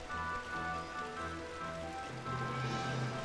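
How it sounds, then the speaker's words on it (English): Soft rain falls in the video game Final Fantasy XII, a faint steady patter beneath sustained musical tones from the game's soundtrack. "The rain didn't stop."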